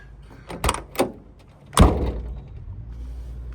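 The driver's door of a 1982 VW Golf GTI MK1 shuts with a solid thud, preceded by a couple of lighter latch clicks and handle knocks, then a short fading rumble in a quiet setting.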